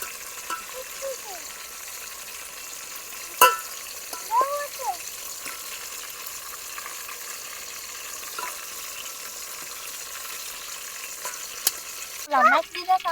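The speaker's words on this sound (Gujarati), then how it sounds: "જો રીંગણા એકદમ છટી જશે તેલમાં, જોઈ શકો છો।" Whole eggplants fry in hot oil, cooked village style outdoors, giving a steady, even sizzling hiss throughout, with a few brief faint voices or chirps over it and a louder disturbance near the end.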